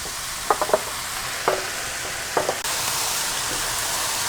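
Chicken cooking with onions and cabbage in a pan on high heat, with a few sharp stirring clicks and scrapes, then a sudden, even, loud sizzle that carries on alone.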